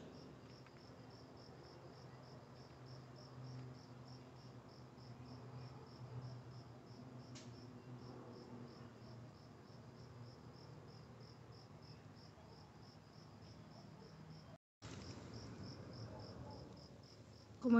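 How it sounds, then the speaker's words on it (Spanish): Crickets chirp in a steady, rapid pulsing rhythm throughout, with a brief drop to silence near the end before the chirping resumes. "Escuchen los grillos."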